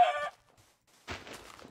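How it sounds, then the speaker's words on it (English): A video game chicken falls off a ledge and hurts itself, giving a sharp squawk that stops abruptly. After a short silence comes a softer scuffling thump. "That chicken just fell off a ledge and hurt itself."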